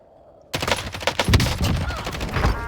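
Rapid gunfire in the online shooter Warzone, a burst of sharp, loud shots starting abruptly after a brief quiet moment, then continuing in dense, uneven volleys up close.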